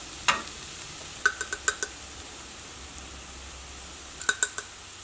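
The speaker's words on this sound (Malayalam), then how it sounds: "ഇപ്പോൾ മല്ലിപ്പൊടി ഇതിനകത്ത് കിടന്നിട്ട് നന്നായിട്ട് മുരിഞ്ഞിട്ടുണ്ട്. ഇനി ഇതിലേക്ക് മുളക് പൊടി ചേർക്കാം." Chilli powder and coriander powder fry in hot oil for a homestyle chicken roast. A quiet steady sizzle runs throughout, with a few clusters of sharp spoon-against-pan clinks near the start and again near the end.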